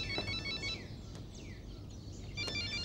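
Phone ringing with an incoming call in a Turkish TV drama scene: a faint electronic ringtone plays short repeating tones in bursts, with quiet swooshing sounds between them and no talking.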